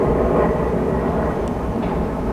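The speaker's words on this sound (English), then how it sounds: "Got the Air Force out flying some more planes around today" Air Force planes flying overhead on a clear day, a steady loud broadband roar that holds for the whole stretch before cutting off abruptly at the end.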